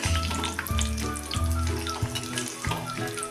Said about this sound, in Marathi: आता चमच्यानं थोडं हलवून घेतल्यानंतर हे आता झाऱ्यानं उलटपालट करून आता हे काढून घेऊया